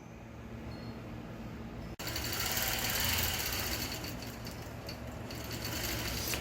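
A quilting machine stitches a quilt with crushed velvet backing, giving a steady close mechanical whir that drops out for an instant and then resumes louder and fuller for the rest of the stretch, with no talking.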